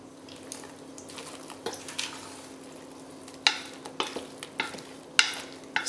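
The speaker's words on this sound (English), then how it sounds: "So stir until you see that the bread is nice and wet." Bread cubes stirred into a milk and heavy cream mixture in a bowl, with soft wet sloshing and a few sharper scraping clicks from the utensil, close by over a faint steady hiss.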